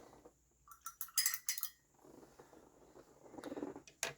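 A paint brush is rinsed in a small water jar, tapped against the side with a few light clinks, then swished around with a soft watery rustle; close and quiet, no talking.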